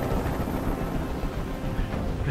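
A helicopter in the video game Detroit: Become Human gives off a steady, loud rotor drone with a dense low rumble, continuous throughout and with no voices over it.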